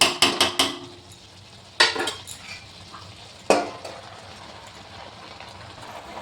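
A lid is set on a cooking pot while cauliflower paturi and sweet pumpkin are being prepared. A quick run of metallic clanks comes first, then two more sharp clatters, with quiet kitchen background between them.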